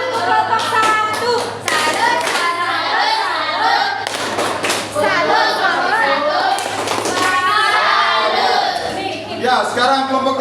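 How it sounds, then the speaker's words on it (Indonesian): A primary school class claps in a quick rhythmic salute pattern, loud and close, mixed with children's voices chanting along. "Tepuk salut untuk kelompok 1."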